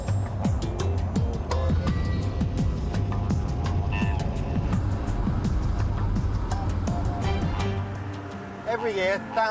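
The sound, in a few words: rental car driving in the Australian outback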